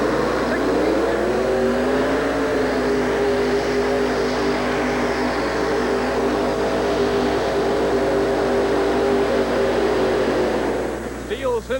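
A two-wheel drive pulling truck drones steadily at an indoor truck-pull event in Hartford, Connecticut, in 1988, with a loud sustained engine roar that rises slightly in pitch. An announcer talks over it throughout.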